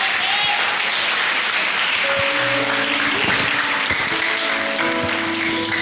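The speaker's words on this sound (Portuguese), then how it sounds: "Uma salva de palmas para Jesus." A church congregation claps loudly and continuously at a sermon service, dense applause filling the space with a few tonal beeps and voices mixed in.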